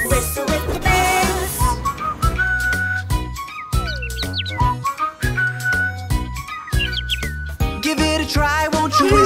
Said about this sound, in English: Whistle with the birds, whistle with the birds.